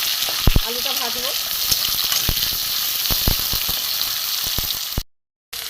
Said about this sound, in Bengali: দিয়ে এবার আমি একটু ভালো করে ভেজে নেবো। আলুটা ভাজবো।